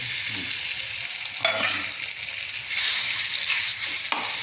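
Pepper chicken fries in hot oil with a steady, close sizzle, punctuated by scraping stirs in the pan; no one speaks.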